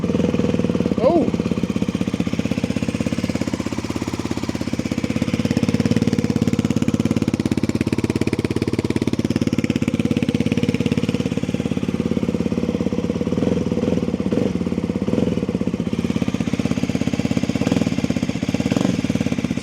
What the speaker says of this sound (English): So before we set off, let me just fire her up.